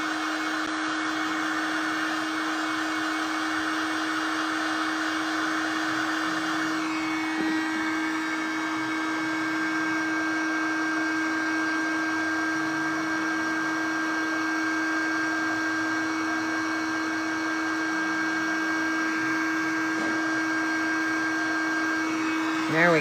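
A hair dryer blowing on gouache paint to dry it, a steady, loud whine held for over twenty seconds with slight shifts in pitch as it moves.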